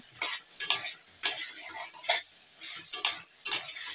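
Fried papad being stir-fried in a pan, spatula scraping and tossing in repeated bursts of clatter and light sizzle, close and fairly loud with no talking.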